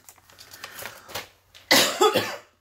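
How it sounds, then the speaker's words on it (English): A couple of sharp, close coughs burst out after a few quiet rustling sounds. "Oh, excuse me. I have been coughing all the time"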